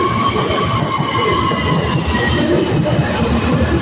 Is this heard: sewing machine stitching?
no